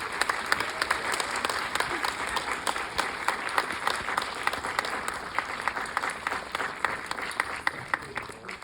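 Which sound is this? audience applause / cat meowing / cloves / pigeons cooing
audience applause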